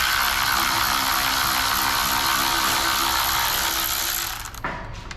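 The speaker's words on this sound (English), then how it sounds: "a bolt right here that's going into this spring. So I'm gonna take it loose." Steady close ratcheting from a socket wrench loosening a bolt on a Husqvarna chainsaw being taken apart, a continuous clicking whir that runs for several seconds and then stops.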